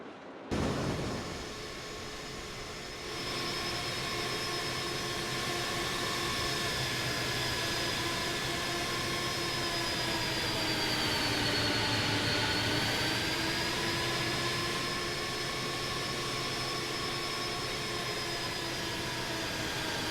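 Simulated Airbus A300-600F jet engines roaring in reverse thrust, a loud steady whine with rising and sliding tones over broad rushing noise, starting abruptly and holding at full power throughout.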